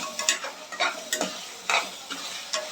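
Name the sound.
stirring and sautéing brinjal (eggplant) in oil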